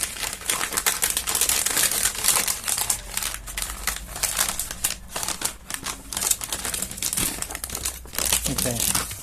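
Paper is crumpled, crinkled and pressed by hand while being shaped into a paper machete. The rustling is loud, close and continuous, with rapid crackling bursts.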